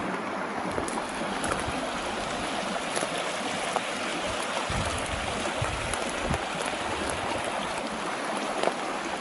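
Water of the Sotla, the border river between Slovenia and Croatia, flowing with a steady broadband rush and faint trickles throughout, no voices.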